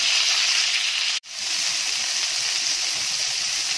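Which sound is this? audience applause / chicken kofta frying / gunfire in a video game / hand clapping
chicken kofta frying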